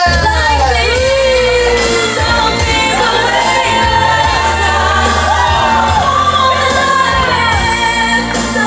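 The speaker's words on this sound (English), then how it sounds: "Give them an applause!" A lively crowd on a cruise ship cheers, whoops and shouts continuously for a round winner, with a dense wash of voices and possible clapping underneath, loud and sustained throughout.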